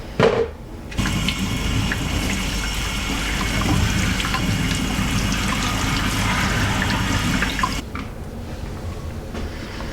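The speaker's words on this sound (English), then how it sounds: "So a good thorough rinse is next" Tap water running steadily over a skull being rinsed in a sink, a continuous close splashing gush that starts after a brief moment and stops near the end, without talk.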